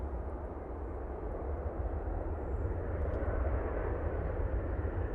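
Emirates Airbus A380 arriving at Manchester Airport after a flight from Dublin, a steady distant low rumble of jet engines holding evenly throughout with no voices.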